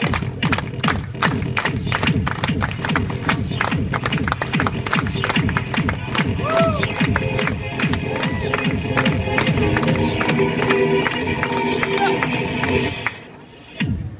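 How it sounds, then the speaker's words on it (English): Santa Monica street performance crowd clapping in a steady rhythm, with loud cheering and shouts layered over the beat, continuous and close until it drops away near the end. "Everybody clap like this."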